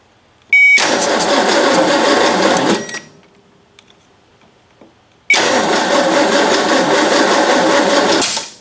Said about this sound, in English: Because it's backfiring at the carb, it's too advanced.